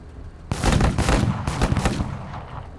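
Gunfire crackles in the sci-fi tactical game MENACE, with a sudden loud burst followed by several rapid, overlapping shots and booming impacts that fade out.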